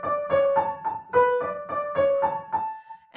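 Short excerpt from the third movement of Pergolesi's Sinfonia Olimpiade, with bright orchestral strings playing a bouncing sequence of repeated notes, about eight pulses, moderately loud and unaccompanied by speech.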